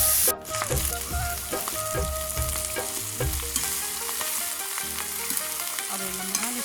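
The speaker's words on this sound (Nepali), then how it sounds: "अब काउली हाल्छु" Cauliflower drops into a hot frying pan and is stirred, giving a steady sizzle with rhythmic scraping and clanking of a spoon against the pan, close and clear, with no voices.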